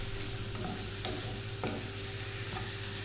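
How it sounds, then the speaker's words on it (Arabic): Onion frying together with chicken in a pan for a bourek filling, giving a steady, dense sizzle throughout with a few soft stirring scrapes, close and continuous. "وهنا راني حطيتو يتقلى البصل مع الدجاج تاعنا اللي رحيناه"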